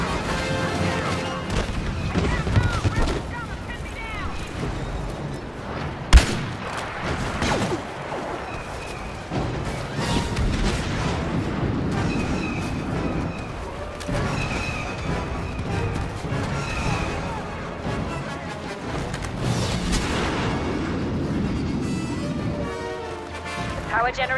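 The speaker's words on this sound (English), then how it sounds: "Bombers are making their attack run." Bombers make an attack run in the Star Wars Battlefront multiplayer beta, producing a dense, loud barrage of explosions and crashes with one sharp blast standing out, all under busy battle noise and a voice talking.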